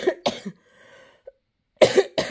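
Two sharp, close coughs from one person, separated by a short gap with a faint click, loud and dry against otherwise quiet surroundings.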